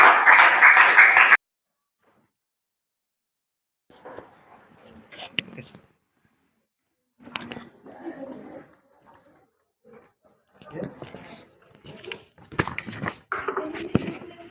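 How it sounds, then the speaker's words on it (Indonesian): A classroom of students claps briefly and loudly for a group during a linear equations lesson. The burst stops abruptly after about a second and a half, then people talk at intervals. "tepuk tangan untuk kelompok 2"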